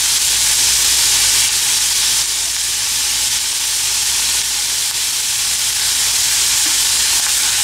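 Chopped onions frying in a pan until slightly browned, a loud, steady, close sizzle with a dense hiss that stays even throughout, no voices over it.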